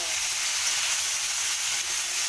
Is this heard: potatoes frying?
yes